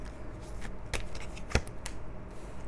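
Tarot cards shuffled by hand in a quiet room: close, papery riffles and flicks with a few crisp slaps as the deck is cut, no voices.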